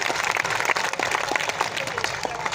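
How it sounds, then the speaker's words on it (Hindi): An audience at a Hindi poetry gathering in Nokha claps loudly in a dense, sustained round of applause. "एक बार इनके लिए ज़ोरदार तालियां बजाइए आप।"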